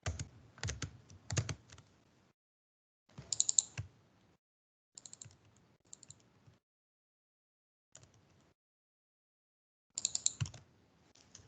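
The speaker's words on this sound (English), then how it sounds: "So let's type, type." Quiet keystrokes on a computer keyboard arrive in short clusters of clicks, separated by pauses of silence, close up and fairly soft.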